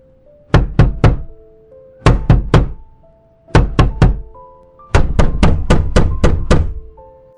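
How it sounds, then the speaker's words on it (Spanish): Knocking on a door in three quick bursts of three firm raps, then a longer run of about six, loud and close, with a low musical drone underneath. "En ese instante, alguien tocó su puerta."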